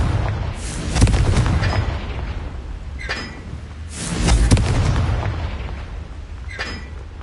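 Confringo blasting curse in the Hogwarts Legacy video game: two deep booming blasts, each followed by a rumbling roar and a crackling tail, with sharp pops scattered in between and no voices.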